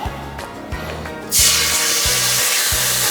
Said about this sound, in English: My favorite part, the sizzle.